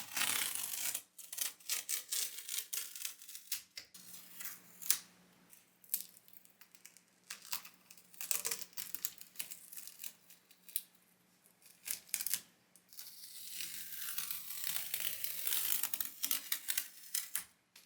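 Pop-dot tape being peeled off HO scale model railroad scenery, making repeated crackly rips and rubbing scrapes in irregular bursts, close and fairly quiet, with no voice.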